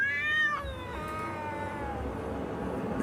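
A black cat gives a long, drawn-out eerie meow that wavers and slowly falls in pitch, sustained for about three seconds, close and loud with no talking.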